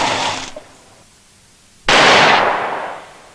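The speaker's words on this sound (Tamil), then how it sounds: "அப்புறம் துப்பாக்கி சத்தம் கேட்டுச்சு சார்." Two sharp, loud gunshot bursts in a Tamil film scene, the first fading quickly and the second, about two seconds later, ringing out with a longer decaying tail; no talking.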